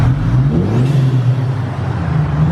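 An Audi A4 with an ECS Tuning cold air intake revs loudly up close, its engine tone climbing and then holding high as if against the limiter.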